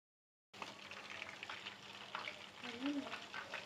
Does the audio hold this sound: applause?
no